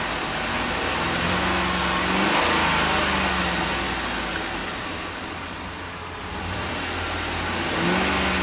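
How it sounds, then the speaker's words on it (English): The V8 engine of a 2008 Chevrolet Tahoe LTZ revs and settles, the deep exhaust note rising and falling in a few swells over steady idle, fairly close with no talk. "It's a good sounding V8."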